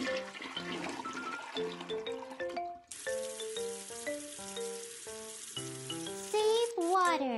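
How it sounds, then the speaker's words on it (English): A cartoonish toilet flush effect from a Baby Panda potty-training game plays over a bright, plinking game melody, ending in a swirling, rising gurgle. "Flush the toilet after using it."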